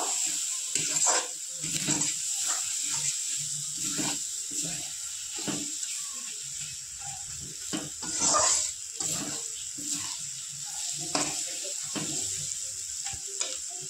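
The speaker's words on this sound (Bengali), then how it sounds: "সমস্ত মশলা দিয়ে ভালো করে আমি কষিয়ে নেব।" Spiced mutton cooks in a pan, sizzling and hissing unevenly with intermittent stirring scrapes and clatters, close and fairly loud, with no talking.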